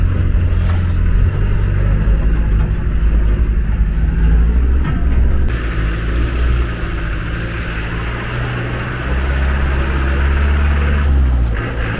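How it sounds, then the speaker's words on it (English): Range Rover diesel engines labour while off-roading, a loud, close, rumbling drone that rises and falls as the revs change, with a deep low throb throughout and no talk. "It's an amazing sound, those diesel engines doing their job."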